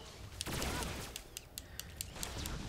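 Rapid bursts of gunfire in Star Wars: The Old Republic during a Bounty Hunter fight, a quick run of sharp, evenly spaced shots over a steady game background.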